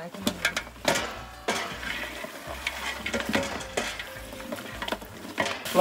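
Mutton for white mutton pulao fries and sizzles in a pan while a spoon stirs and scrapes in uneven bursts, with clinks of metal and a voice talking over the cooking.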